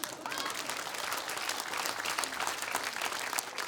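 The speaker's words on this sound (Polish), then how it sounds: "Brawa śmiało" An audience at a comedy monologue claps in a steady, dense wash of applause, moderately distant and fairly quiet, without a break throughout.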